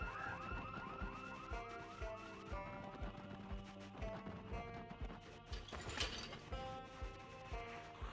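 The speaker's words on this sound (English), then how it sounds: "Are you going for that house alarm?" A house alarm wails in the zombie survival video game Project Zomboid, a continuous cycling siren with rising, looping tones layered over dense game sounds and mechanical clatter, loud and unbroken throughout.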